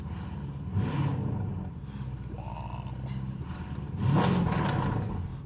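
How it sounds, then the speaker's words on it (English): A 2023 Lamborghini Urus SUV with Novitec Esteso tuning revs up moderately in a couple of swells over a steady idle hum, with a brief exclamation from a voice. "I will be not revving it a lot, just stepping on the gas a bit."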